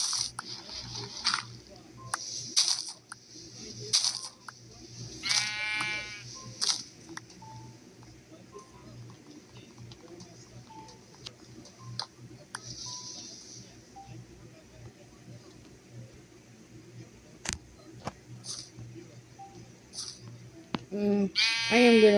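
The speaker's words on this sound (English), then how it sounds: "Oh, another sheep." Synthetic sheep bleats in Minecraft One Block Skyblock sound a few times early on, wavering and fairly clear, then fade into quiet game ambience with occasional clicks.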